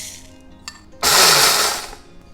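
A kitchen mixer grinder gives a single short pulse, a sudden loud whirring burst lasting about a second before cutting off, while it coarsely grinds spices for a green chilli pickle; quieter handling noises come beforehand.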